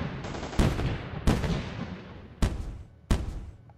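Gun turrets firing in the tower defense game M.A.C.E. Tower Defense: four sharp, loud shots spaced irregularly, each ringing out with a decaying rumble over a continuous battle din.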